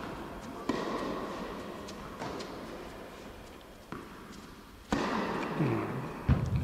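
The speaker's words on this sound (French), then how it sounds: "Un gros pétard." Big firecracker bang going off at an outdoor senior tennis tournament match, a sharp loud blast followed by lingering rumble, with other thumps and ambient noise around it.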